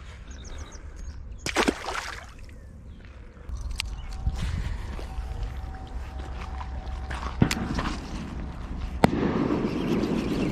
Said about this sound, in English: Right as the fireworks went off.